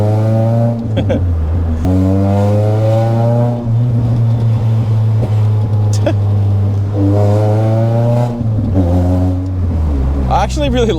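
Engine of a Nissan Pulsar SSS revving loudly and close by, with strong rising and falling harmonic tones that swell through several climbs in pitch and briefly dip between pulls.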